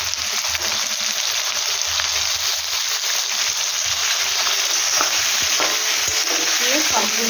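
Pieces of chicken fry loudly in a hot pan, a constant close sizzle with occasional scraping and knocks from stirring.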